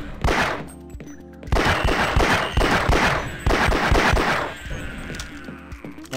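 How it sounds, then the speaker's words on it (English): Gunfire in the video game Half-Life: Codename Loop, with the original Half-Life gun sounds: rapid loud bursts of shots in a dense, continuous volley with short pauses, close and dominant, no talk. "Now they do have the original gun sounds"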